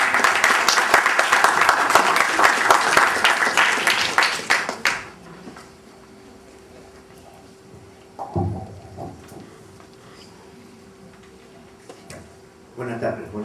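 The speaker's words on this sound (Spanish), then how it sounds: "A continuación lo presentamos con fuertes palmas." An audience at a university conference on journalism in wartime claps for a speaker, dense applause for several seconds that stops abruptly, followed by quiet room tone with brief bursts of movement.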